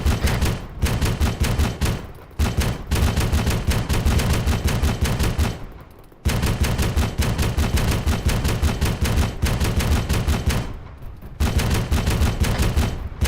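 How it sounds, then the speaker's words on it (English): Rapid heavy bursts of main battle tank gunfire ring out in a military shooter video game, loud and sustained with a few short pauses between long volleys. "Requesting permission to get on the gun of the main battle tank."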